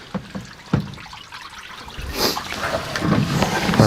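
Water trickling and splashing as a soaked tufted wool area rug is rinsed, a soft continuous wet flow that grows louder and busier toward the end, with occasional drips and splatters.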